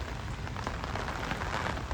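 Rain falls steadily outdoors during the pilgrimage to Pandharpur. The hiss is even and soft, with no voices.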